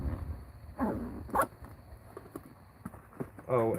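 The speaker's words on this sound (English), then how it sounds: "Zip some of this stuff up so I don't have stuff everywhere." Zipping up a tree climbing gear bag, with short ripping zipper pulls at moderate loudness amid light handling rustle, and brief talk near the end.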